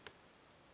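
A lock pick sets a pin inside a Mako 427 lock with a single sharp, faint click, followed by quiet background hiss.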